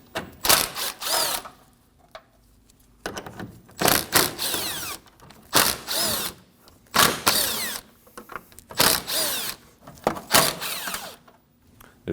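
A power tool running in short repeated bursts to remove 10mm bolts from the grille of a 2016-2022 Honda, loud and close, whirring on and off with brief pauses and no speech.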